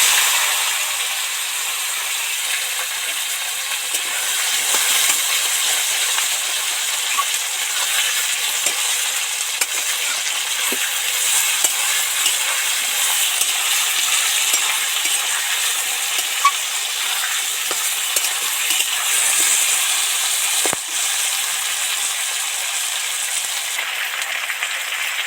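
Taro, potato and tomato fry in oil spiced with dried red chillies, a steady close hiss and sizzle that holds for the whole span with faint occasional stirring clicks, no speech.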